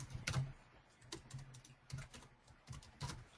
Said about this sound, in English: I'll start by typing